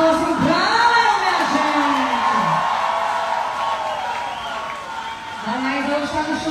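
Live show crowd applauding and whooping, a loud steady roar of claps and cheers under a host's voice talking over it.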